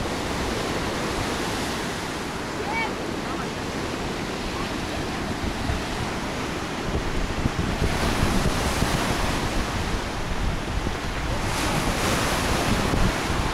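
Sea waves wash and break steadily onto the shore along the Tosmur embankment in Alanya in January, a broad continuous roar with swells building louder toward the end, with wind buffeting the microphone.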